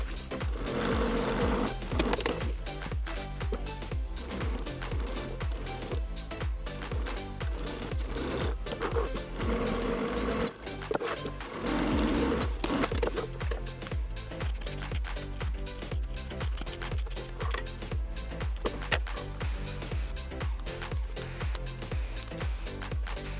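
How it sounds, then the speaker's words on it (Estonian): A sewing machine stitches through MOLLE webbing straps on a modular vest, making a steady, loud mechanical whir with rapid needle clatter that runs almost continuously, with brief pauses and speed changes between passes. "õmblen 3 korda nad läbi."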